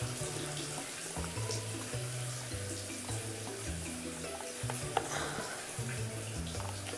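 Water runs steadily from a tap to wash developed film in a home darkroom sink, a continuous close splashing stream with faint background sounds.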